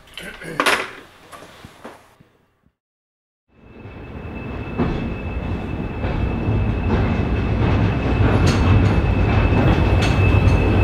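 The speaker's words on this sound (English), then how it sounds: "Neil is coming back with the Class 20 and it's probably wagons for Thomas" A Class 20 diesel locomotive bringing wagons on the heritage railway at Toddington. Brief clunks and a pause give way to a rising, sustained rumble of the engine and rolling stock with a steady tone.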